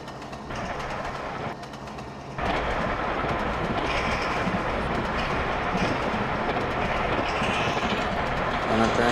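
A train running at 106 km/h in the Trainz Android game, in Indian Railways Kakatiya Express gameplay, gives a steady loud rumble with rapid clickety-clack of wheels over rails, continuous and close throughout.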